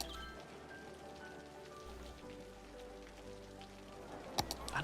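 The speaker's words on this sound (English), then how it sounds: "I'm gonna press play too so we can get rid of this rain." Rain falls steadily in Cities Skylines, a soft, faint hiss of drops on surfaces under a low, steady musical hum, with a few louder clicks near the end.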